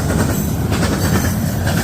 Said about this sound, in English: That's a mixed freight.